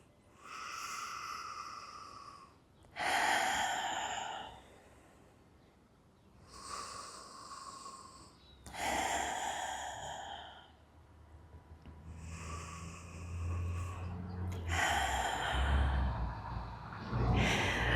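Slow, deep breaths during a standing stretching routine: long sighing exhales and inhales in repeated cycles, close and fairly loud, with no talking.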